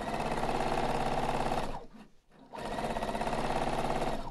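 A sewing machine stitches a seam in a home sewing session, running fast and steady for about two seconds, pausing briefly, then racing on again at full speed, loud and close.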